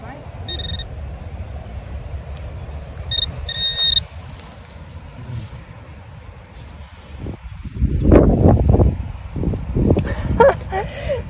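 A Minelab Equinox 800 metal detector sounds short beeping tones over a pull tab in a park, followed by rustling and digging noises, with people talking nearby.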